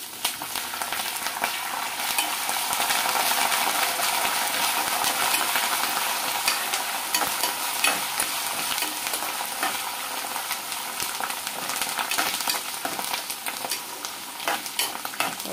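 Curry leaves fry in hot tempering oil for mango pulihora, a loud, dense and steady sizzle heard up close for the whole stretch with faint spoon clinks and no voices.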